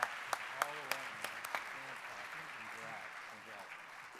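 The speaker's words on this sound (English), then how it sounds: "let's clap them off the stage here" An audience claps honorees off the stage at a CRS Honors event, opening with a few sharp claps and then settling into steady applause that slowly fades, with voices mixed in.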